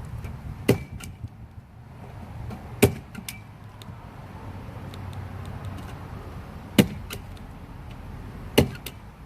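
A staple gun fires four sharp, close snaps at spaced intervals along the bottom row of a wooden vintage bottle display box, with quiet handling noise between shots.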